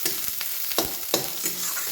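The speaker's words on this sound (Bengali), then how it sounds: "নাড়াচাড়া করে নিচ্ছি যতক্ষণ না লাল লাল ভাজা হচ্ছে। পেঁয়াজটা আর লঙ্কাটা ভেজে নেব।" Onions and chillies are stir-fried in a pan, giving a constant oily sizzle broken by repeated scraping strokes of a spatula.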